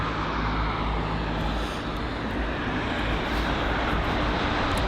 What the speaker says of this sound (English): Here's the Virgin Atlantic 787-9 Dreamliner. This is. On finals, runway 27 right